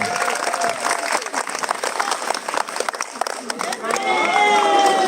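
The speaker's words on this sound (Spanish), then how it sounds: "Un fuerte aplauso." Lively audience applause and clapping at a live outdoor Christmas community event in Cerro Puerco, with cheering voices and shouts mixed in and clear speech rising at the end.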